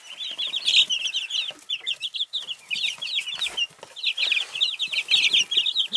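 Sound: week-and-a-half-old chicken chicks clucking

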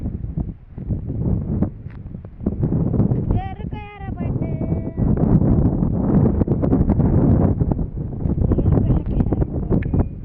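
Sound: wind

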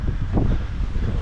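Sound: strong wind on a hiking trail in Mauritius

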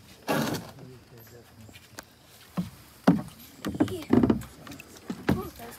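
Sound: kayak paddle dragging through water

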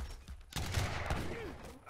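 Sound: culverin cannon fire in video game Age of Empires III

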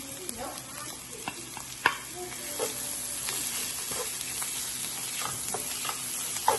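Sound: frying fat and curry leaves for goat blood dish

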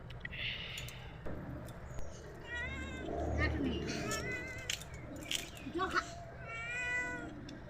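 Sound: cat meowing

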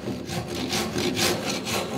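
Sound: hand sawing oak dowel flush

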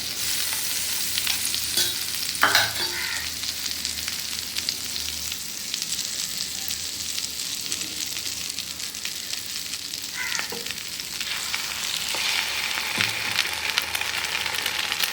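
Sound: bread toasting in butter on a hot pan

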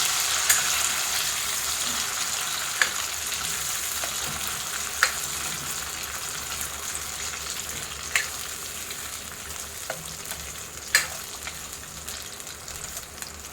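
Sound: frying potatoes in oil for dum aloo

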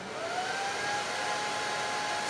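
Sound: hair dryer running as load on LiFePO4 battery

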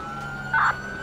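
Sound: police car siren in GTA 5 video game

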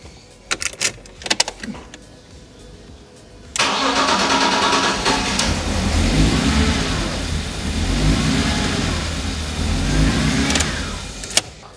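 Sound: car engine running roughly

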